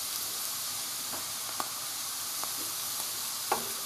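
Honey mushrooms frying with carrot and onion in a pan, a steady soft sizzle with a few brief scraping clicks from stirring, fairly faint and with no talk.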